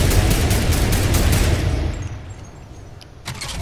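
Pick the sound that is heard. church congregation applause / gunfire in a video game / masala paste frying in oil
gunfire in a video game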